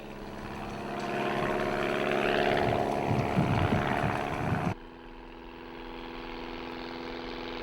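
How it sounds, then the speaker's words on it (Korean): A 60-year-old propeller airplane's engine drones steadily and loudly with a rumbling low end, then cuts abruptly about two-thirds through to a quieter, steadier hum. "(60년이 다 된) 비행기는 모든 것이 구식이다."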